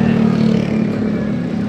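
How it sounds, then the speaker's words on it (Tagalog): A motorized tricycle passes close by on the road, its engine a loud, steady rumbling drone throughout. "Oh, may tricycle ay."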